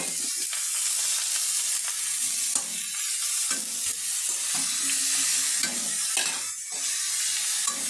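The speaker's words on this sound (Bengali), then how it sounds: "গাজরটা আমি হালকা করে একটু ভেজে নেব।" Grated carrot frying in a pan with cashews and raisins for carrot halwa, a steady close sizzle with repeated stirring scrapes and soft knocks throughout, no voices.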